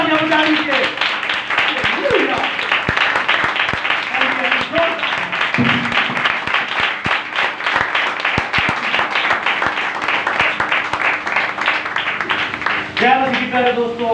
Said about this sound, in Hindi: एक बार अपने लिए भी जोरदार तालियां बजा लीजिए